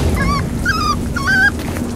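A dog whimpers in Roblox Brookhaven, a few high, thin whining yelps repeating in short bursts over a steady game background, close and fairly loud.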